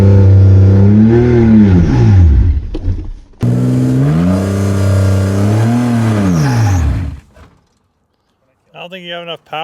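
A manual BMW E46 drift car revs hard during a burnout, its engine climbing and falling in two long, loud sweeps before cutting out into near silence, followed by a short final rev burst.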